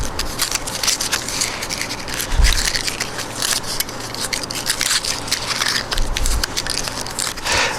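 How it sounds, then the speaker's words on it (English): Tape being peeled off small veneer diamonds, a continuous close crackling and ripping texture with dull thumps of handling, no speech. "Now peel off all that tape, separate them out"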